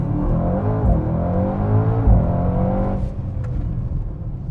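Mercedes-AMG GT 63 S 4MATIC+ four-door coupé launching hard under launch control with two aboard and a full tank, a loud, steady engine roar climbing through rising tones before easing off near the end.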